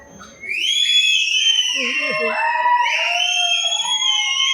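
Audience at a hotel talk whistling together: loud overlapping shrill whistles rise and fall in several pitched tones after a brief quiet start, filling the room with sustained chorus-like whistling.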